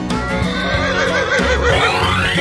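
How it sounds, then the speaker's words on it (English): A horse neighs in a children's animal-sound sequence, a loud whinny with shaky harmonics over steady music, lasting the whole moment with no talk. "Horse."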